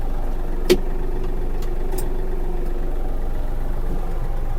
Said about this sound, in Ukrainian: І поки фреза опущена, можемо включити вал відбору потужності.